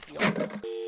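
A telephone rings once as a sound effect, a short steady electronic tone cutting in abruptly after a brief burst of louder noise, clear and alone.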